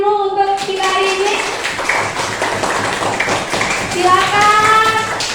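Children clapping together in a classroom, a dense burst of hand claps with a teacher's voice speaking over it at the start and end.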